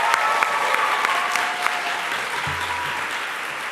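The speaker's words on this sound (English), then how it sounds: "can you guys join me in giving a round of applause to all the participants tonight?" An audience at an evening youth film festival screening and awards show applauds the participants, a dense, sustained wash of clapping from a large crowd that softens slightly toward the end.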